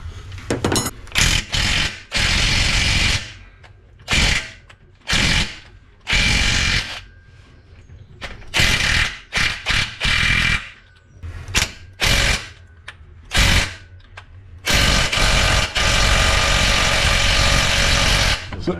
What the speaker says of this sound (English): we'll be employing our trusty Ryobi Impact Ugga Dugga